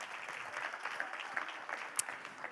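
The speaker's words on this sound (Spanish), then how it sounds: "Denle un aplauso" A church congregation claps during a Spanish-language worship service, fairly soft and somewhat uneven applause with scattered individual claps standing out, no voices on top.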